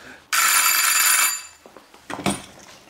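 A telephone bell rings loud and steady for about a second, then cuts off, leaving a few faint scattered sounds and brief voice noises.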